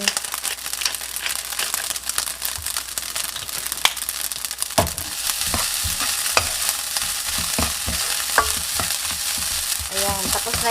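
Chahan fried rice with egg stir-fried in a pan, a continuous loud sizzle with scraping and tossing clatter from the spatula throughout.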